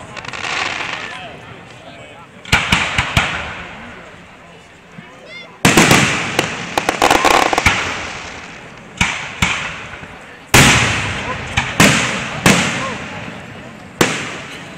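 Fourth of July fireworks in Pottstown burst in a string of sharp booms and crackles, each followed by a fading rumble, while people talk nearby between explosions.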